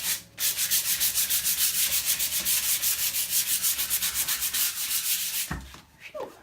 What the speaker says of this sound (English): that's the wax coming off on the sandpaper